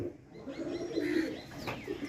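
Soft, low cooing from Andhra pigeons murmurs along steadily, with a few higher bird chirps and faint background noise mixed in.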